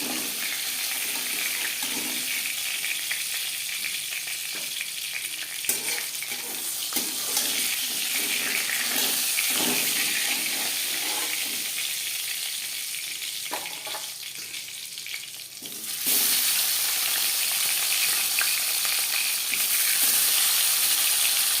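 Pieces of fish fry in hot oil in a well-heated wok, making a dense, continuous hiss that runs loud throughout and swells a little louder toward the end, with no voices.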